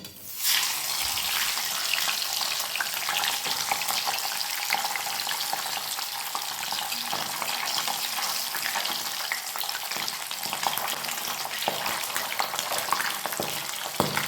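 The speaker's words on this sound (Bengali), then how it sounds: "একই রকম করে আমি বাকি মাছের টুকরোগুলো ভেজে নেব" Pabda fish pieces fry in hot oil, a dense, loud, continuous sizzle that holds steady throughout with faint crackles and the occasional clink from the pan.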